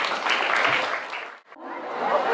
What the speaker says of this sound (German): Großen Applaus für euren fähigen Bürgermeister.